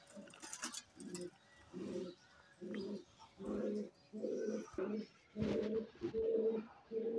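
Teddy Golden pigeons at a breeder's setup in Lahore coo in a steady rhythm of about ten low, rounded bursts, close by and fairly soft over a quiet background.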